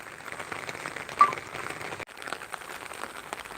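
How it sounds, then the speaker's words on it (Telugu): Steady, soft patter of rain falling on a surface in Vijayawada, continuous throughout with a brief dip partway through, no voices. "ఈ విజయవాడలోనే వర్షం మీకు కూడా వర్షం పడుతుందండి"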